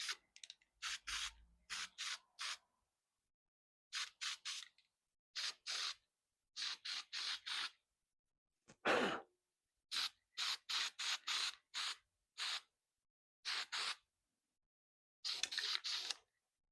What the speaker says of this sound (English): Let's get some weld-through primer on the spots we're going to be welding on tomorrow